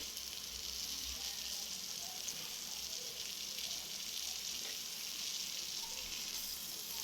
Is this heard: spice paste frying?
yes